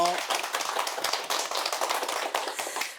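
An audience at a priest's lecture applauds, a dense, even patter of many hands clapping at moderate volume, steady throughout with no break.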